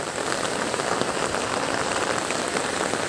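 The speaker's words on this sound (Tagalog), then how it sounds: "Lakas ng ulan." Heavy rain from a typhoon in the Visayas, a steady loud dense roar of drops pounding surfaces with no pauses and no voices.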